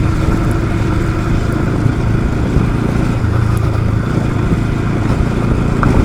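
A Bajaj Pulsar NS200 motorcycle held in first gear gives a steady, loud engine drone with constant rumble and wind noise, close and continuous without clear revving peaks.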